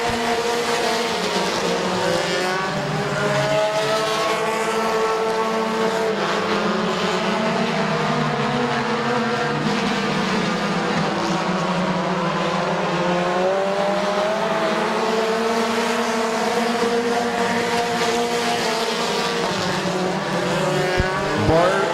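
Compact race cars circle Midvale Speedway with continuous, overlapping engine drones that rise and fall as they lap, steady and fairly loud throughout.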